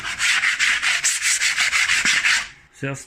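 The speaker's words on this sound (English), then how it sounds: "use sandpaper and remove so you get nice edges without some wood chunks" Sandpaper rubbed over rough wood edges of a mining rig frame, about a dozen quick rhythmic back-and-forth strokes close up, then a short pause and a brief knock at the end, no voices.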